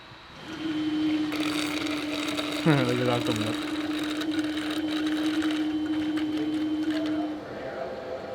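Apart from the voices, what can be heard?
water pump running at full power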